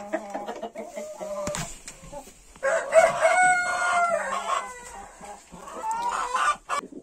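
Mechelen Cuckoo chickens cluck steadily in a coop while a rooster lets out a long crow partway through, the birds close by and sounding alone without speech.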